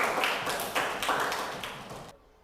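Classmates in a school lesson clap for a quiz winner, a short burst of quick, distinct handclaps that thins out and then cuts off abruptly into near silence.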